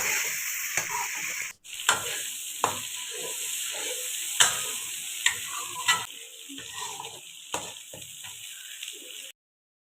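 A spoon stirs and mixes spices, including salt and turmeric, into a chicken kofta mixture, with repeated scraping and clinking taps against the pot and a steady sizzling wash throughout, and no talk.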